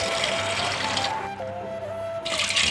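Water pours steadily into a cooking pot for gonguura dal, a continuous splashing rush that thins briefly in the middle before picking up again, close and fairly loud.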